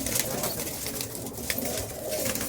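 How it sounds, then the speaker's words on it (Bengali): Tippler pigeons fluttering and flapping in a loft, with soft cooing among them; quick rustling wingbeats come in short bursts at close range, and a voice talks faintly underneath. "পায়রাগুলো সব ঝটপট করছে"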